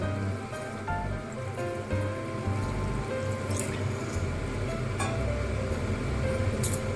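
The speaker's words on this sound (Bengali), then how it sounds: "এবার আমি মশলাটার ভেতরে কিছুটা জল দিয়ে দেব।" Water pours into a mustard-poppy spice paste in a pan, a continuous bubbling, trickling flow with occasional drips and splashes, fairly close.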